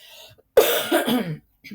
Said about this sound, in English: see, there's coughing.